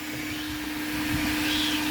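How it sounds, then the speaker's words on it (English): A coin-operated vacuum cleaner at a car wash runs with a steady, loud whine and airy rush, its suction noise continuous and close. "Vacuum"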